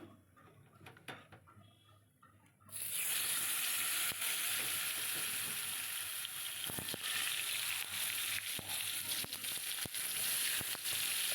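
Potatoes hit hot oil seasoned with cumin and bay leaf, and a loud sizzle bursts in after a few quiet seconds, then keeps up steadily close by with scattered clinks of stirring.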